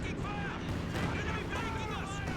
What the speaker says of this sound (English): Artillery's coming down in the Calliope